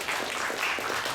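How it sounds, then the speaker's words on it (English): A crowd at a Georgia Democratic candidates' event in Valdosta-Lowndes County applauds the candidates with steady, dense clapping that fills the room and carries on without a break. "Can we just applaud all of our candidates for being here with us today?"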